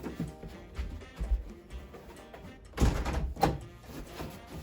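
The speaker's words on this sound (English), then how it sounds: "Oh, the door." A door thuds and rattles in a couple of dull knocks and bumps, close by and moderately loud, with a short pause between impacts.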